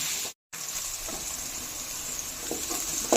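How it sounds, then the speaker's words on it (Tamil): Onions sautéing with salt in a pan, a steady close sizzle broken by a brief dropout near the start, with faint stirring scrapes through the rest. "நல்லா வெங்காயம் வதங்கிறதுக்கு கொஞ்சம் வந்து உப்பை போட்டு நல்லா வதக்கிடலாம்"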